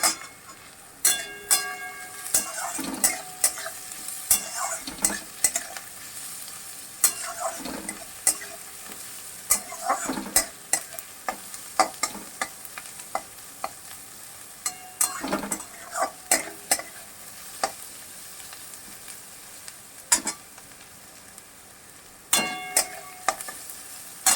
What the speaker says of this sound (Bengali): আমি আর একটুখানি ভেজে নেবো